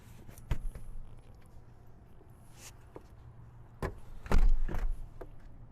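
Rear seats of a Mercedes AMG G63 SUV are folded down by hand, giving scattered muffled clunks and latch clicks. A heavier cluster of thuds lands near the end, all close by and otherwise quiet.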